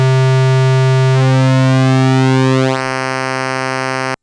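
A Behringer JT-2 synthesizer holds a steady buzzy tone while its pulse width is reduced, producing a sweeping, phasing change in timbre before it settles into a thinner, steady pitch, loud and alone.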